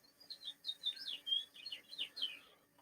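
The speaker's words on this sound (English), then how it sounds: "birds outside my window" Small birds outside a window chirp and tweet in a quick run of high, thin calls, faint and fairly distant, with no voices over them.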